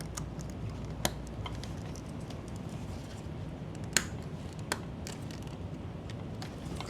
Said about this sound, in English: then you'll hear these kind of ratcheting clicks